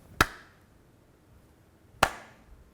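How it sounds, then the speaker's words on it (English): Two sharp hand claps about two seconds apart serve as a filming slate, each a crisp single crack with a quick decay in a quiet room. "You want to just slate it and clap it?"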